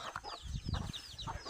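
Chickens cluck on a coconut farm as they are given coconut meat: a run of short, close clucks and chirps in an irregular rhythm, with some low thumps and rustling underneath.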